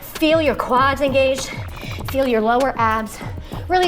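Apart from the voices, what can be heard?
No everyday noise stands out behind the speech.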